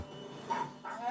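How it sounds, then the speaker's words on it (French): A dog in the Tekken Dark Resurrection video game gives two short, yelping barks close by, with a steady low background hum. "c'est un chien"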